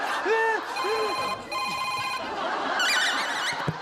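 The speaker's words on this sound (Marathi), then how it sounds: "माझा फोन आलाय." A phone rings in a repeating electronic tone, close and loud, with a brief burst of chatter and clatter near the end.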